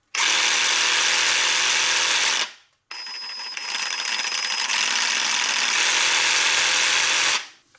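A Parkside PSSA 18 A1 cordless pendulum sabre saw runs loud and steady for about two seconds, stops briefly, then starts again and runs for roughly four and a half more seconds before winding down.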